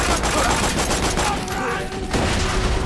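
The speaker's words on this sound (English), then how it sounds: "Shotgun!" Shotgun blasts in the Borderlands 2 Torgue campaign add-on, loud and continuous amid a dense burst of gunfire and explosions, with a voice shouting over the combat.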